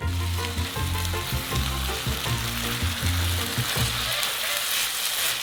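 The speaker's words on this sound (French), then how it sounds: "Et on mélange bien le tout." Chili con carne made with canned beans, Worcestershire sauce and dark chocolate sizzles loudly in a hot pan, with rhythmic scraping strokes of stirring over a constant frying hiss and no talking.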